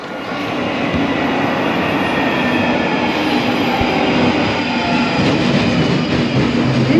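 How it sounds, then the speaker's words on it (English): A London Underground Northern Line train bound for Edgware rumbles loudly and continuously from inside the carriage, with a steady roar and faint rhythmic wheel clatter. "This is a Northern Line train terminating at Edgware."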